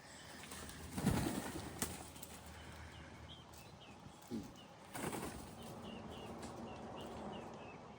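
A flock of about 21 birds, including pigeons or doves, back home and roosting in trees on a rural property, gives faint chirps and soft calls against quiet outdoor ambience, with a few louder thumps or hoof-like clops near the start.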